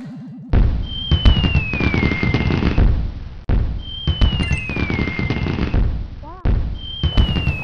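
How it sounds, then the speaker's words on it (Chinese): Fireworks go off over Changsha at night: repeated descending whistles followed by crackling, thumping bursts, close and loud, with people talking over them. "是放烟花是吗？"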